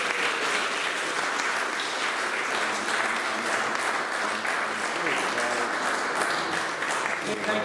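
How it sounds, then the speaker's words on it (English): An audience at a live charity auction evening applauds steadily, dense continuous clapping that stays loud throughout with no pauses. "Let's have a round of applause for We See Hope"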